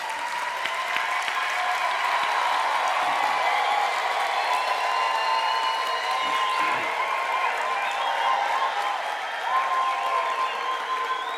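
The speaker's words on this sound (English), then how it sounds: "Can we give them a round of applause?" Sustained audience applause at a university graduation ceremony, honouring graduates' parents, a dense steady wash of many hands clapping filling the hall from start to finish.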